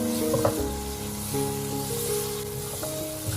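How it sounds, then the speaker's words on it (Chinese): Mushrooms stir-fried in a wok over high heat, with a loud, steady sizzle and hiss from the hot oil and a few brief scrapes as the pieces are tossed, plus a faint hum in the background. "继续快速的翻炒，把香菇炒熟炒香，"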